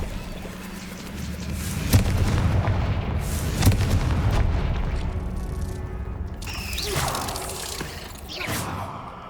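Confringo explosive spell blasts in Hogwarts Legacy: heavy booming impacts and rumbling bursts, with sharp cracks near two and four seconds and a softer blast later, loud and close over a continuous low roar.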